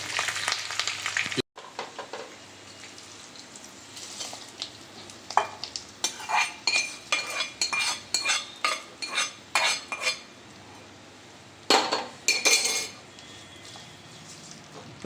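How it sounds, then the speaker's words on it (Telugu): A tempering is being stirred into lentil pongal in a pot. A spoon scrapes and clinks against the metal in quick, uneven strokes after a brief opening sizzle. Bursts of stirring come and go over a soft frying hiss. "ఇప్పుడు ఈ పోపును తీసి ఆ పప్పొంగల్లో కలుపుదాం"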